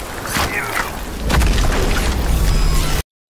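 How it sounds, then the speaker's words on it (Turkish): A bomb explodes in the Black State video game trailer, a loud booming blast that swells suddenly and rolls on, with a voice faintly talking underneath. "O bomba attı ya mesela"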